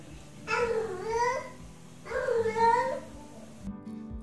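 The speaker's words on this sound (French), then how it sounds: "Un miaulement ou un hurlement, cela ressemble à des miaulements forts et prolongés" A cat gives two long, drawn-out yowls, each rising and falling, fairly close with a quiet pause between.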